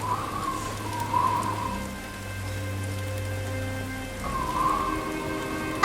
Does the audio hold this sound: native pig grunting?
no